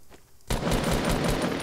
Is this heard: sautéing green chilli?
no